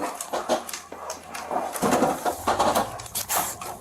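A puppy whimpers softly in short, intermittent whines while being walked and set down, mixed with patter and handling noise on a late-night talk show set.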